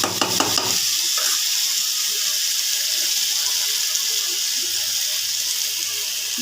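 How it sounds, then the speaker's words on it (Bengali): Water hits a hot pan of soybean kofta curry in Bengali home cooking, a loud splashy burst at first that settles into a steady, close hiss of sizzling oil and liquid. "জল দিয়ে দেবো।"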